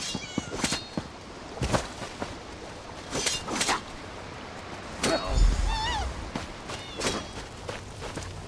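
Several cats meowing in Elder Scrolls Online, wavering mews midway among regular footstep taps, moderately loud with light ambient noise.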